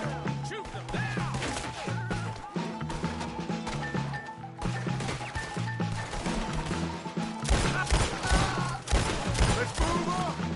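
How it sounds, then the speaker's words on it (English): Rapid gunfire from a Red Dead Redemption 2 shootout on PS4, dense overlapping shots and impacts cracking continuously over game music, with shouting voices in between. "Shoot them down!"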